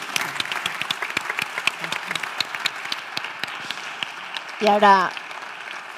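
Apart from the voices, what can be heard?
audience applause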